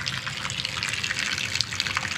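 Rusty rainwater pours and splashes steadily out of a steel bullbar beam on an expedition vehicle, leaking through unsealed rivets, a continuous close gush with no talking.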